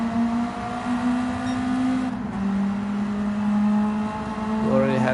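Race car engine in Gran Turismo 7, a steady droning whine that shifts pitch slightly, rising into a brief higher rev near the end, with someone talking over it.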